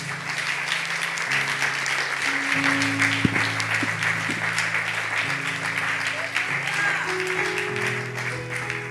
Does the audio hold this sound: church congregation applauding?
yes